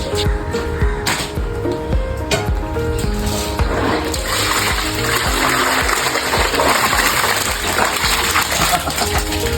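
Caught pearlspot fish being washed by hand, with continuous water splashing and trickling close by, steady and moderately loud throughout.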